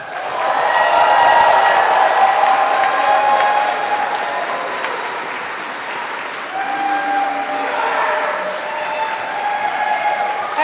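A standing audience claps, stamps their feet and hollers for a long stretch, a dense roar of applause that dips briefly midway, then surges again with scattered whoops on top.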